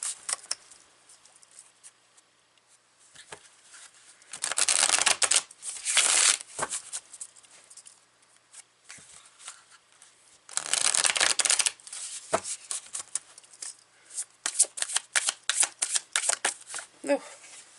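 Spacious Tarot cards being shuffled, two loud close riffling bursts followed by rapid rhythmic card flicks, set against quiet moments, without talking.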